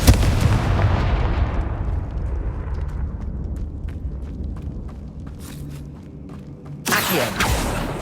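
A Confringo blasting spell in Hogwarts Legacy opens with a loud, deep explosive burst that rumbles and fades over several seconds, then a second sharp blast erupts near the end.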